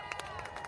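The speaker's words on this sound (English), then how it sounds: "That sounds just like the applause from the beginning of the show." Studio audience applause, a recorded sound effect played on a podcast, heard as a brief burst of dense clapping at moderate level, with a voice faintly underneath.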